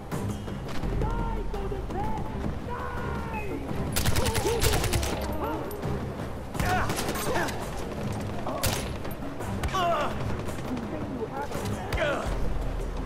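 Bursts of rapid gunfire from a weapon in the video game Far Cry 4 crackle repeatedly over ambient game noise, with a voice talking over the shots.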